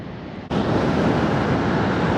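Surf rolls in at Fistral Beach in Cornwall during the off season, a sudden loud wash of breaking waves that becomes a steady roaring rush mixed with wind buffeting the microphone.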